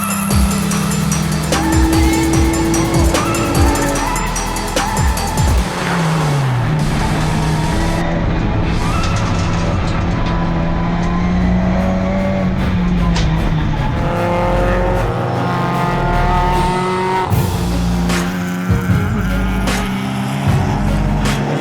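A Honda Civic race car laps Thunderhill during a 25-hour endurance race, its engine rising and falling through gear changes with tire squeal and other cars passing, loud and continuous throughout.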